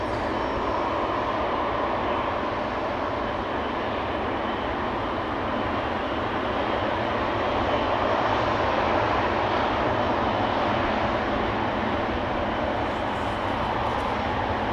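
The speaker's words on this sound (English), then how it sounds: "Croatia Airlines A319" A Croatia Airlines Airbus A319 departs Amsterdam Schiphol, its jet engines a steady, moderately loud rumbling roar that holds evenly across the whole stretch, with no one speaking.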